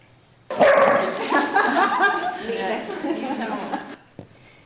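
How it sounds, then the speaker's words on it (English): Rescue puppies at an indoor puppy yoga session bark and yip in a loud, busy burst close by, the yelps overlapping and tumbling over each other for a few seconds before fading out. "you are surrounded by rescue puppies looking to be adopted"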